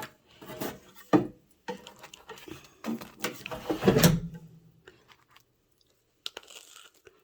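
Crisp crunching bites into a hard, air-fried bagel, a few close, loud crunches with short pauses, then quiet with faint clicks.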